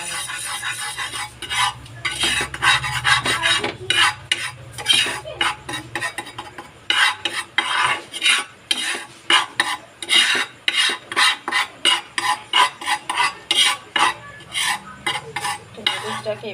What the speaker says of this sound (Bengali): শুকনো কড়াই কড়াতে হলুদটাকে ততক্ষণ পর্যন্ত নাড়বো যতক্ষণ না কালারটা একদম কালো কুচকুচে হয়ে যাবে